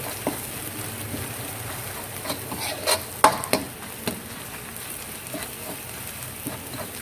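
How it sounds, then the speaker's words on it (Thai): Curry paste stir-fried over medium heat in a pan, soft steady sizzling with scattered scrapes and taps of the spatula, a few sharper knocks near the middle, close and moderate. "ช่วงที่ผัดอย่าใช้ไฟแรงนะคะใช้ไฟกลางๆก่อน ผัดกระจายกระจายให้หอมๆ"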